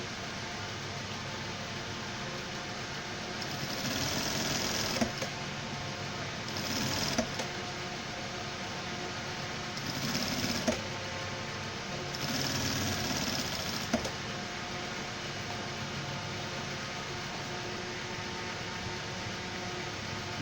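Sewing machine stitching a pant leg, a fast steady mechanical whirr running in bursts with brief pauses between seams, close and fairly quiet.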